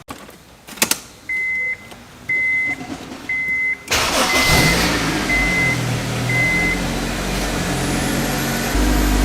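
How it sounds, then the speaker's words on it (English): A Honda S2000 sports car fires up after a few chiming beeps, the engine catching abruptly and settling into a loud, close, steady idle with a rough broadband roar. "let's go ahead and fire up the car"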